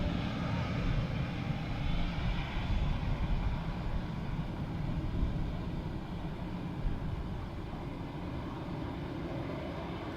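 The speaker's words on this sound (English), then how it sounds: "Next up, flight FR331 coming in from London." A Ryanair Boeing 737 on flight FR331 from London arrives at Dublin Airport, a sustained rumbling jet roar that rises and falls gently over about ten seconds.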